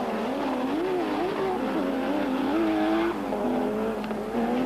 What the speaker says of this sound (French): Chance, Alamaki et Arneson exploitent à fond ces longues lignes droites, exigeant beaucoup et souvent trop de leurs moteurs.